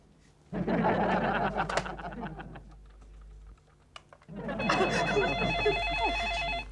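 On a comedy TV show, a telephone rings back on an outgoing call: an electronic ringing tone repeats steadily near the end, following a burst of busy sitcom sound and laughter and a brief quiet gap.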